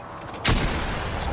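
A single loud gunshot in Fortnite, cracking sharply out of quiet game ambience and trailing into a long, noisy ringing tail.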